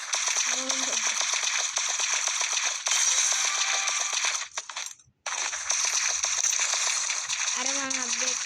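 Rapid bursts of gunfire from a shooting video game crackle almost without pause, dense and loud, cutting out for a moment and then resuming.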